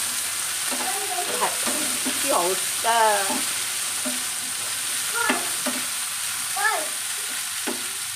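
Food frying in a pan sizzles as a steady hiss, with stirring noises, while someone talks over it at intervals.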